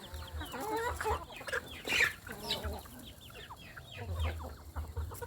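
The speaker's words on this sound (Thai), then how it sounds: "ไก่กินอาหารเก่งขึ้นมากนะครับ" A flock of native chickens clucks and squawks nearby while eating feed in a coop, in a steady, overlapping chatter over a faint low hum.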